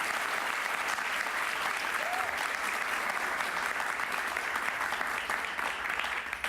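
A studio audience on a talk show gives a steady, even round of applause, dense and continuous with no voices over it.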